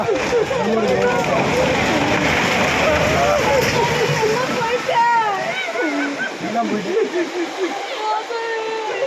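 Floodwater rushing loudly through central Tirunelveli as a house is swept away, a continuous heavy roar of surging water with splashes, while several people shout and talk excitedly over it.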